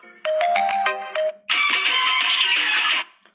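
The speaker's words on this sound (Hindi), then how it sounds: "अभी मैंने आपको यहाँ पर कुछ रिंगटोन्स प्ले करके दिखाई हैं" A phone ringtone plays loud and close: a bright melodic chime pattern of repeating notes, a brief pause, then a second denser musical ringtone that stops abruptly.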